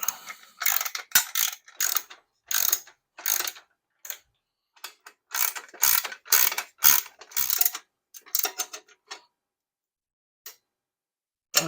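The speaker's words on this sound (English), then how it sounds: "we're going to tighten that up with a number 13 ratchet wrench" Ratchet wrench tightening a bolt on a hand truck, bursts of quick clicking pawl ratchets in uneven runs with short pauses, close and crisp, fading to near silence at the end.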